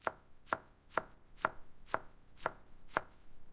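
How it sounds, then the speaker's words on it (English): A knife minces a large shallot, landing seven crisp, evenly spaced chops about every half second on a cutting surface, close and clear, with no talking. "Let's start by mincing a large shallot."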